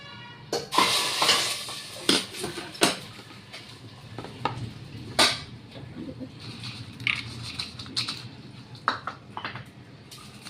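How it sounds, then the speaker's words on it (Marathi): Sabudana chaat with peanuts being mixed by hand in a bowl, producing repeated close crunchy rustles and scrapes in irregular bursts, with no talk. "हे हाताने छान मिक्स होते, हाताने करून घ्यायचं।"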